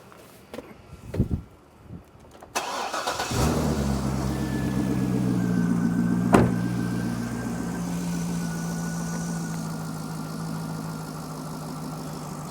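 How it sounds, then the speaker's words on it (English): A few clicks and a brief crank give way to a faulty Chevrolet Corvette engine catching and settling into a steady idling rumble, with a sharp click partway through. "So now I'm gonna start the engine."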